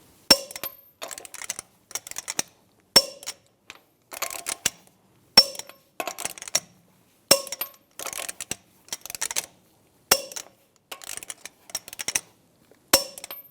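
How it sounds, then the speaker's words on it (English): A torque wrench tightens the lug nuts on a 2007-2013 Chevy Silverado 1500 to 140 foot-pounds in a cross pattern, giving close, sharp metallic clicks in quick clustered bursts with short silences between them. "Now I'm going to torque the lug nuts in a cross pattern to 140 foot-pounds."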